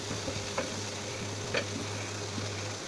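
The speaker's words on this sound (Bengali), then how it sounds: "চিংড়ি মাছ দিয়ে চিংড়ি মাছও একটু টেলে নিব" Shrimp frying in mustard oil with green chilies, a steady low sizzle with occasional faint stirring clinks and scrapes, close and fairly quiet.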